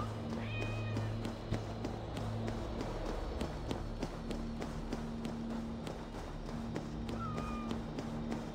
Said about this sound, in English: If these are Freya's cats, they must be leading to her.